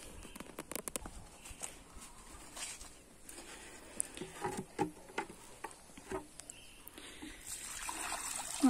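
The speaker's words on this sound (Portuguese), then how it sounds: "Essa água eu vou jogar na horta aqui." Aquarium water from a 200-litre tank is poured out onto a vegetable garden, giving an irregular splashing trickle and patter that swells and fades, fairly close and moderately quiet, with no talking.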